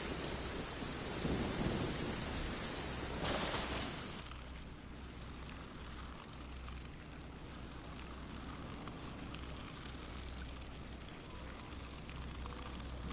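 Rain in the Genshin Impact game, a steady dense hiss of falling rain with a heavy rumbling burst like thunder at the start, then softer continuous rainfall.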